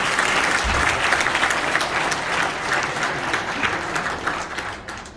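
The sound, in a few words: applause for the First Lady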